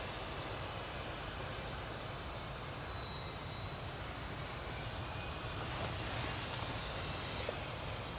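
Aircraft on the runway at Newcastle Airport at night, a steady, distant broadband engine roar holding level throughout with no voices.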